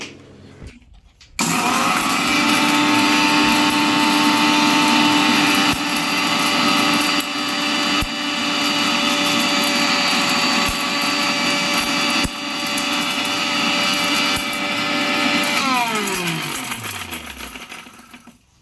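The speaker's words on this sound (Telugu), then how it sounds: "మిక్సీ పట్టుకున్నాం." A kitchen mixer grinder whirs up loudly and runs steadily for a long stretch, grinding coriander seeds, cinnamon and cloves with a gritty rattle, then winds down as the motor stops.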